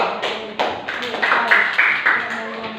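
Students in a classroom give a short round of scattered hand claps for a group, loose and uneven, with voices talking over the clapping nearby.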